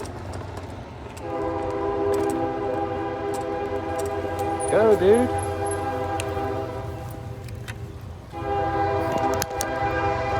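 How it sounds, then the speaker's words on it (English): A train rumbles past in Newnan with a steady, loud horn blast that swells midway and returns near the end; a voice briefly speaks under it. "We got a train coming by."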